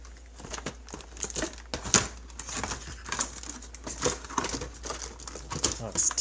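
A Marky Sparky Doinkit Darts magnetic dart board is pulled out of its packaging, with close, irregular crinkling and rustling of plastic and cardboard, plus a few sharper crackles and some quiet vocal sounds underneath.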